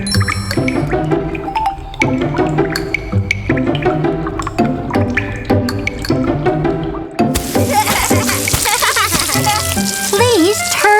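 A garden hose sprays water in a bright, hissing rush that starts about two-thirds through, after a stretch of upbeat children's music, with a short voice near the end.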